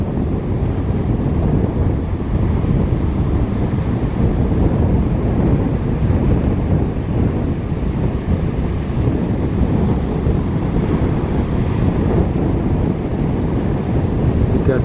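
Ocean surf washing steadily onto a sandbank beach where boats launch through the waves, with heavy wind buffeting the microphone throughout as one continuous loud roar.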